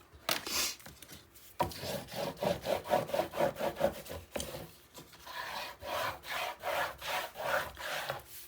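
Paper tape on a mini album page is burnished with firm rhythmic rubbing strokes, close and fairly loud, in quick repeated bursts with brief pauses between passes.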